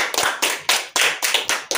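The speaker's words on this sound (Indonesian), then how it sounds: "Tepuk tangan untuk Pak Cakra." About seven crisp hand claps at a steady, slightly uneven pace, close and clear with no talking, in an office setting.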